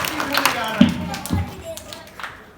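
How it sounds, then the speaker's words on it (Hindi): A school audience claps in short, scattered bursts at a traffic awareness event, the claps sparse and uneven, with voices mixed in underneath. "बजाओ इस पे एक बार ताली"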